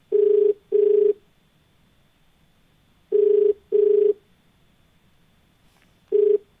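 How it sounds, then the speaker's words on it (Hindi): A telephone ringback tone sounds while a TV call-in show dials a caller: two paired rings, a pause, another pair, then the start of a third, loud and clean with no voices. "चलिए फोन लगाते हैं अपने अगले कॉलर को"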